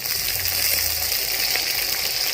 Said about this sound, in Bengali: পেঁয়াজটা ভাজা হয়ে গেছে, টমেটো দিয়ে দিলাম